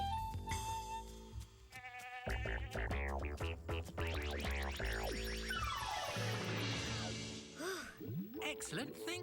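A cartoon billy goat gives long, wavering bleats that rise and fall through several drawn-out cries, loud and near, with cartoon music or effects beneath.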